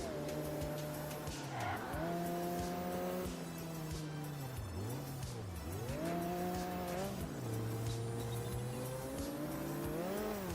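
Supercharged V8 race car in Ford Racing 3, its engine revving loudly up and down through gear changes throughout, with tire squeal mixed in, close and continuous.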